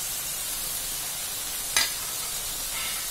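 Spices with bruised galangal, kaffir lime leaves and bay leaves fry in a pan for cassava leaf curry, a soft, even hiss of sizzling oil broken by one brief sharp tick.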